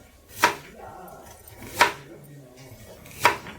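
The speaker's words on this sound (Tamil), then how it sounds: "சாதத்தோடு வச்சு சாப்பிட்றதுக்கு ஒரு வெங்காயத்தை எடுத்து இந்த மாதிரி ரவுண்டாக கட் பண்ணிக்கலாம்." A knife cuts through an onion slicing it into rounds, three sharp, evenly spaced chops against a board, close by and fairly faint with quiet kitchen noise between them.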